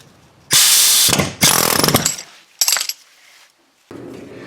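An air hammer chisel rattles against the control arm of a 1998-2010 Ford Focus in three loud close bursts, each a rapid mechanical hammering, separated by short pauses and followed by a quieter tail.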